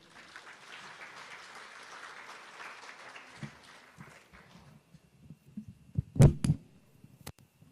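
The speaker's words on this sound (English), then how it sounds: "as we give them a round of applause and we welcome them" Guests at a post-budget business breakfast give a soft round of applause as speakers come on stage; the clapping fades out after a few seconds, followed by quiet and a few sharp thumps.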